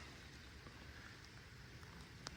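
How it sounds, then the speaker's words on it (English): Steady light rain patters on lake water, a soft continuous hiss with one sharp tick near the end. "Rain's picking up again."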